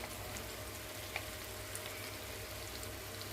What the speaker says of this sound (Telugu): ఇప్పుడు ఆ టమాటా ప్యూరీని యాడ్ చేద్దాం